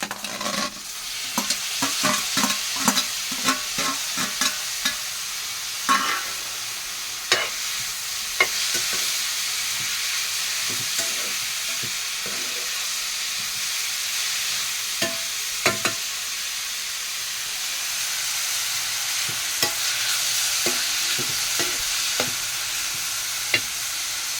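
Onions fry in a pan for a broad bean and tomato curry, with a constant sizzle broken by repeated sharp scrapes and clacks of a spatula stirring, close and clear without any talk.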